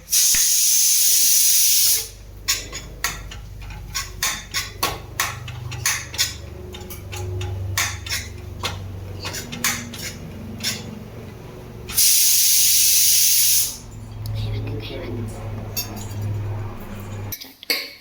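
Beef frying over a low flame, with two loud bursts of hissing steam or spray and a stretch of clinking and scraping utensils against the pan between them.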